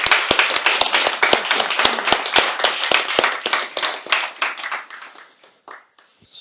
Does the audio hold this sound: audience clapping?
yes